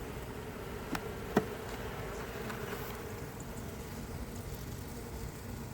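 Honey bees hum in an open hive being split into Wonky Pillow and Appis Biologix hives, a steady low drone with a couple of faint knocks near the start and no talking.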